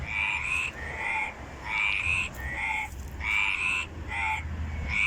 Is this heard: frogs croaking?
yes